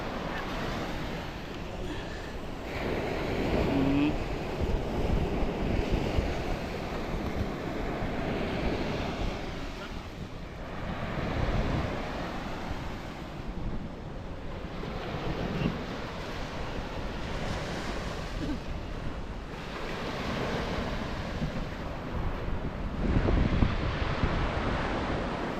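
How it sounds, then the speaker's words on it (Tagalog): Big typhoon-driven sea waves crash on the shore at Tukuran, Zamboanga del Sur, with steady wind buffeting the microphone, a loud, continuous roar with surging swells throughout. "Kidagko kayo mga baludo."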